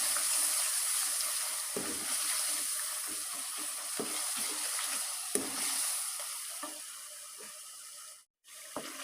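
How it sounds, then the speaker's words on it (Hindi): Tomatoes with salt, chillies and turmeric sizzling as they fry for aloo gobi, a steady broadband hiss with scattered soft scrapes and taps of stirring, close and alone, briefly dropping out near the end. "और 4 से 5 मिनट अच्छी तरह भूनेंगे।"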